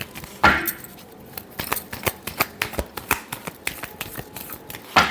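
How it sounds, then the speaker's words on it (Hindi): Tarot cards getting a final shuffle, heard as a run of crisp, quick riffling flicks and soft slaps, fairly close and irregular, with no talking. "Last shuffle."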